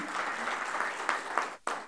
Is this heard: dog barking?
no